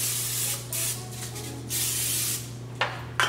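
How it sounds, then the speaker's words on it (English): Several short hissing bursts of aerosol spray onto a skillet, close up, separated by brief pauses under a low steady hum. "spray it all over"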